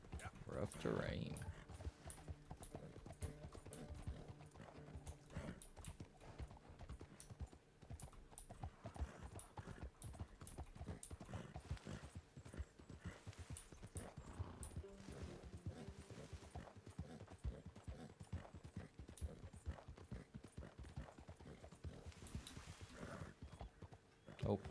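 Horse hooves clip-clopping steadily in the Red Dead video game, a dense continuous patter of quick hoofbeats at moderate volume over rough terrain, with someone talking over it.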